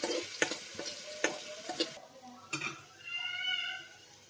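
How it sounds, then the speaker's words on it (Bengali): Mung dal being stirred and fried in a pan: quick scraping strokes and light ticks over a soft sizzle, ending in a steadier frying hiss. "একটু ভালো করে নাড়িয়ে চাড়িয়ে ভেজে নেব মুগ ডালটা"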